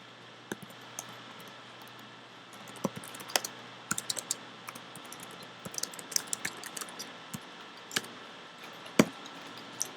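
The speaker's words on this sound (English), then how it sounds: "I need a keyboard that puts the right key right under my finger wherever I'm going to type." Steady typing on a computer keyboard, close and clear, with irregular bursts of key taps and a few louder strikes scattered over a low electrical hum, no voices.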